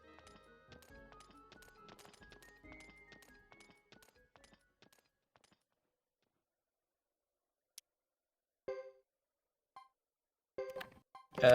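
Hooves clip-clop in a quick, light rhythm from a horse in the Suikoden 3 video game, fading into near silence, followed by a few sharp isolated taps.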